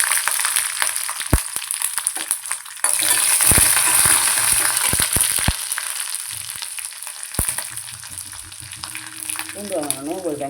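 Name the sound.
tempering vadagam and garlic frying in oil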